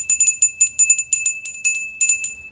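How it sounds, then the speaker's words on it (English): A small bell is rung in quick bursts, each strike giving a bright, sharp ring with a sustained high tone between the pulses, close and clear, about a dozen chimes in short clusters with no talking. "so I rung the bell"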